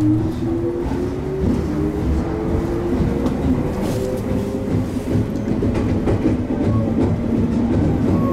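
A Miyakoji rapid train between Kyoto and Nara rumbles steadily along the rails with a continuous rolling clatter and faint tonal squeals, close and sustained throughout.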